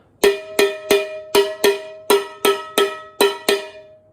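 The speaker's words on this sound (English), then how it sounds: "I can also turn it over and play the bottom part of the metal" About ten bright, ringing metallic strikes on the metal bottom of a homemade drum, evenly paced, each with a short clanging decay.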